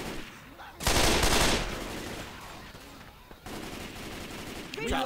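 Gunfire in the zombie shooter game Left 4 Dead 2, a dense burst of rapid shots followed by a steadier rattle of continuous fire that carries on under the game's background noise.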